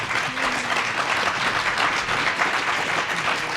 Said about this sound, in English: Let's have applause for the panel.